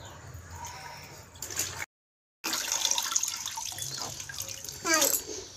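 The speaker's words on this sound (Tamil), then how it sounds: "பாப்பா தண்ணியில் கழுவுறீங்களா சட்டைய?" A small child washing a shirt in water, with splashing and trickling close by in short bursts, a brief dropout in the middle and a soft voice babbling near the end.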